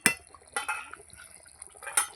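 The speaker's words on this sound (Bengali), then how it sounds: "কাতলা মাছ ভাজাগুলো দিয়ে দিচ্ছি।" Fried katla fish pieces dropped into a simmering gravy in a pot: three soft splashing, clinking hits spaced about a second apart, close and moderately quiet.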